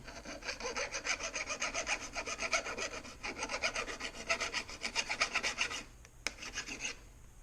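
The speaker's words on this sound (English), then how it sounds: "we're going to hit it with the file on the back here a little bit, because there's a little burr sticking up" A metal file rasps back and forth across the back of a Corona 3354 weeder to knock down a burr, giving quick rhythmic strokes for about six seconds, then a single sharp tap and a pause.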